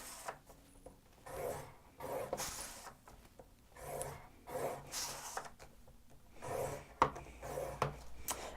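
Scoring cardstock squares at one inch for a diagonal drawer stack box, a series of soft scraping and rubbing strokes, close and quiet, repeating irregularly with a sharper tap near the end.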